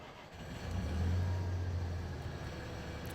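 Farming vehicle engine in Farming Simulator 2015 turning over and catching, building into a low, steady hum that swells and then settles, moderately loud and without talk.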